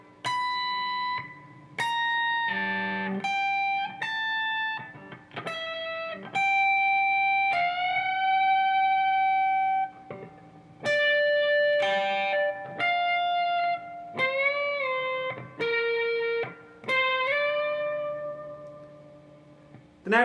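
The guitar part of a song played slowly on clean single notes with bends and vibrato, phrases separated by brief pauses.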